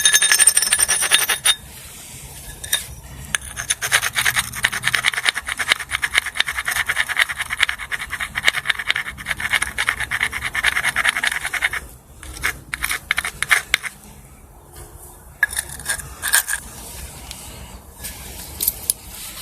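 Pressure flaking a stone Clovis point replica, with dense, continuous scratchy crackles and small snaps of flakes coming off, close by and fairly loud, broken by brief pauses.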